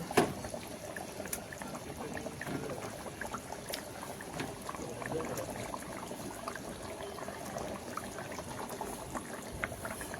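Rohu fish curry with ridge gourd bubbling steadily in a pot on the stove, a continuous soft simmering hiss and gurgle with faint occasional clinks, close and even throughout.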